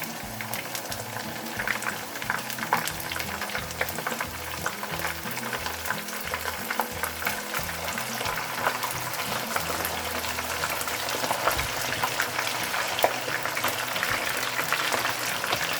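Meat for aloo gosht fries in a hot pan, giving a steady, dense sizzle with bubbling that runs unbroken for the whole stretch, with no talking over it.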